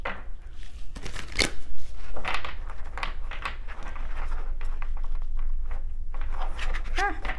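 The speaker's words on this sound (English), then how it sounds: "So I'm just gonna shuffle these real quick." Oracle cards are shuffled by hand in quick riffling bursts and soft slaps, close up, with a little rustling between them and no talking.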